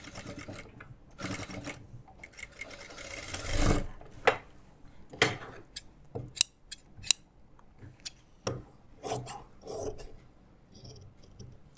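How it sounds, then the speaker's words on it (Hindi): Scissors snip along a seam margin in a series of sharp, close cuts, irregular in rhythm, with a few heavier handling sounds early on. "और ये मार्जिन को हम थोड़ा थोड़ा कट कर देंगे"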